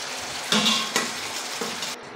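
Boiled whole baby potatoes being stirred in a frying pan, a steady sizzle with a few louder scraping stirs of the spoon against the pan, close by and without talk.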